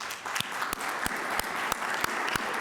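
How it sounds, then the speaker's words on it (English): A modest round of applause rises at a council district caucus, with sparse, slightly uneven claps in a room, fairly quiet and steady throughout. "Please join me in thanking the candidates and the new member of council with a round of applause."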